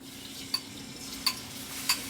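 Onions and peppers sizzle faintly in hot oil alongside tomato, with three sharp clinks of a utensil stirring the pan.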